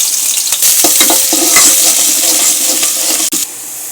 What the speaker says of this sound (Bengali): কড়াইতে তেল দিয়ে দিব। থেতো করা রসুন আর পেঁয়াজ কুচি দিয়ে দেবো।